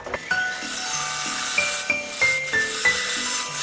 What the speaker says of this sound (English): I'm going to use a parting tool, and I'm going to get rid of all this excess over here